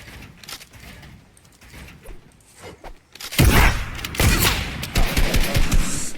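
A gunshot from a first-person shooter video game, a no-scope sniper shot, bursts out loudly after a quieter stretch of in-game rustling and clatter, followed by dense, sustained gunfire and game noise.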